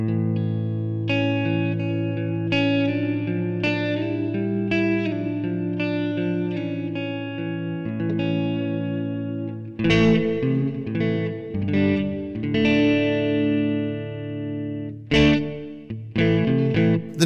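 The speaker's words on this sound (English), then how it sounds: "this first amp model is the JC120, nice and clean." Clean electric guitar strums through a Roland JC120 amp model ring out with sustained chords and a touch of reverb, later shifting to sharper, choppier strums.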